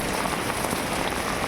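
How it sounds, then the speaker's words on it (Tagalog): Steady rain pours onto a street at night, a dense, even hiss of drops hitting the wet pavement that stays constant and fairly loud throughout, with no voices. "Ang maririnig nyo siyempre ulan."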